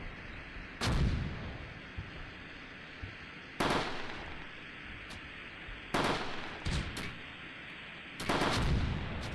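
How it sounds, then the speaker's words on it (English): Enemy mortar and artillery rounds land in a 1944 Normandy battle in the Close Combat war game, four heavy blasts a couple of seconds apart, each a sharp crack followed by a rumbling, ringing decay over a quiet background. "Ah, their mortars are already looking for us."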